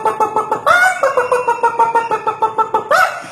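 A human voice imitates a hen's cackling: a quick, rhythmic run of clucks, loud and close, with two higher squawks breaking the steady pattern.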